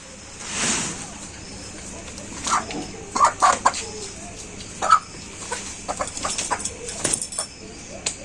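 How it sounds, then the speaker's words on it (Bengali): Chickens clucking inside a village coop: scattered short clucks and squawks come at irregular intervals over a low, steady background, with faint voices nearby. "খাসার ভিতরে মুরগি ধরবাতে এমনি করো"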